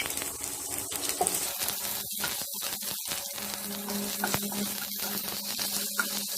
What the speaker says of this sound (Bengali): এর ভেতরে আমি পেঁয়াজ কুচি দিয়ে দিলাম